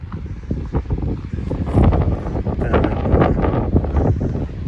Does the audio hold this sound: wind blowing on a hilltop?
yes